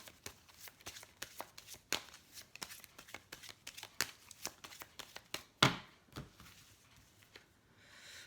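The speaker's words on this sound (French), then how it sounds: "je vais tirer quelques cartes des anges de l'amour et j'arrêterai là" Angel love oracle cards being shuffled and drawn by hand, a steady run of soft riffling flicks and taps with a few sharper snaps, close up and without talking.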